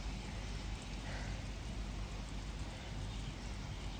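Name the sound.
heavy rain falling outside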